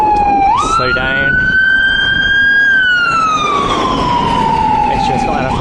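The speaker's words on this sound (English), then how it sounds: "Got an ambulance behind me." An ambulance siren behind a moving car on a drive near Cheddar: a loud, close wail gliding up, holding, then slowly falling, over steady road and engine noise.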